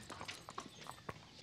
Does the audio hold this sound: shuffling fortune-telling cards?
no